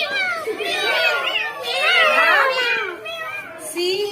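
A young child imitates a cat's meow several times in a row, the voice rising and falling in drawn-out, wavering cries, close and fairly loud, with a short pause before a final call.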